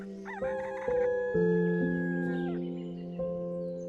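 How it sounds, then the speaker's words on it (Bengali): In a cartoon, a hen squawks in fright as a fox grabs it: a series of loud, tonal, rising and falling cries that step from one pitch to the next, with no other sound around them. "মুরগিটি ভয় পেয়ে চিৎকার শুরু করল"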